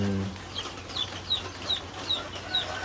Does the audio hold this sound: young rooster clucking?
yes